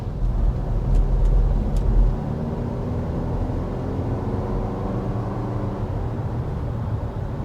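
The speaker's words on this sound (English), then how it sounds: "As we accelerate there gently from that stoplight, talk a little bit about the transmission." A 2025 Lexus NX 350 F-Sport pulls away gently from a stoplight, a steady, subdued engine and road hum heard from inside the cabin with no one talking.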